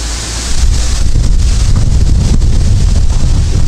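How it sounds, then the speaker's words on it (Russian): Strong wind gusting outdoors in a yard where nuts are falling, a loud, constant roar buffeting the microphone that swells after the first half second and holds steady, with no voices. "Видите, у нас какой ветер"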